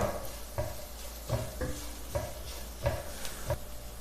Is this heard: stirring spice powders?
yes